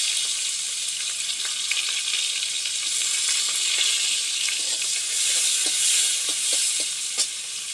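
Chopped onions frying in hot oil with black cumin for a cauliflower and katla fish curry, a steady bright sizzle with a few soft clicks of stirring near the end.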